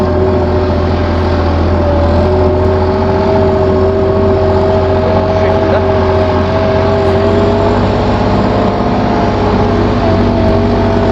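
A New Holland 7556S tractor in series 2 gear pulling a TT55 harrow across a field, its engine droning loud and steady at close range with a constant hum the whole time.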